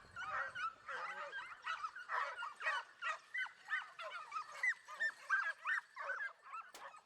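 Several hunting dogs yelp and bark excitedly in a rapid, overlapping chorus of high-pitched cries near a group of wild boar during a Spanish montería hunt, fairly close and continuous, with no talking.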